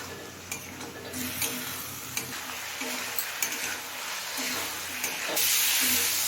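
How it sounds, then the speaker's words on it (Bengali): Raw kanthali bananas simmer into a curry with spices and a splash of water, hissing steadily in a pan while a spatula scrapes and stirs in repeated strokes, close and fairly loud throughout. "এবার কিছুক্ষণ সময় নিয়ে সব কিছু ভালোভাবে কষিয়ে নেব"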